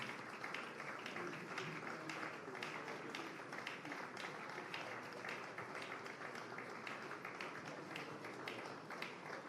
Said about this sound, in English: Let's keep the applause going as we say a very big thank you to all of our speakers.